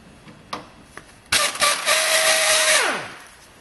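Pneumatic air tool spinning off the strut mounting bolts on a 2015 Chevrolet Tahoe during a leveling kit install: a few light clicks, then a loud close whirring burst that runs about a second and a half before winding down.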